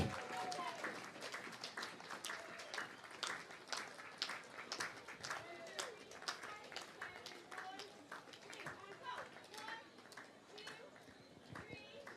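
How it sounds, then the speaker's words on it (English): Scattered crowd applause ripples along the street at the Greystones St Patrick's Day parade, sustained and close by, with voices talking over the clapping. "give them a little bit of a clap and help them along"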